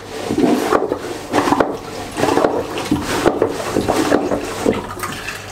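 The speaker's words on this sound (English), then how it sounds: "it will pump water in and out at the same time" Sloshing, gurgling water with rhythmic pumping strokes, repeating roughly every second, close by as a manual marine toilet on a sailing yacht pumps water in and out of the bowl.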